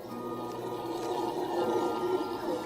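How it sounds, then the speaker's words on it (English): Howler monkeys howl in Costa Rican jungle, a dense, steady roaring chorus that holds without pause, moderately loud with no talk over it. "The jungles are full of howler monkeys."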